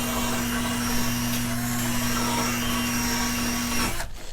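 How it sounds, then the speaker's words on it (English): A drill spinning a wire brush to scrub dirt off a Ford F-350 wheel gives a loud, steady whirring grind with a constant hum, running unbroken for about four seconds before cutting off. "We're gonna use this drill. We're gonna use a wire brush just to clean off any dirt that might be stuck on here."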